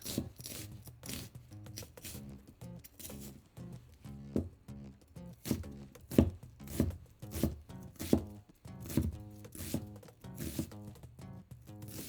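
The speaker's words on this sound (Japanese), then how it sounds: "玉ねぎは粗めのみじん切りにする。" A knife coarsely chops onion on a cutting board, with quick rhythmic strokes in uneven bursts, close and clear, with no voices.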